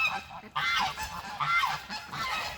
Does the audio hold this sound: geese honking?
yes